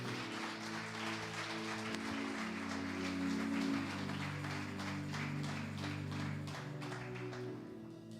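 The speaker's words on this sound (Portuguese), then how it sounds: "Você pode dar um aplauso ao Senhor?" Congregation clapping during a Lord's Supper service at an evangelical church, heard as a crisp patter of many hands beneath sustained organ or keyboard chords that carry throughout.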